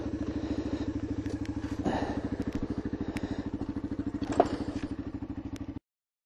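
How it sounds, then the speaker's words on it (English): A small two-stroke engine on a classic motor scooter putters at a steady, rapid beat close by, with faint rattles before it cuts off abruptly. "Today we are actually out on classic scooters."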